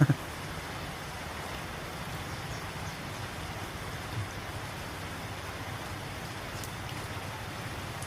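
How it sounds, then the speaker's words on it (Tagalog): Heavy rain falls as a steady, dense hiss that stays even throughout, with no other sounds standing out. "Lakas ng ulan."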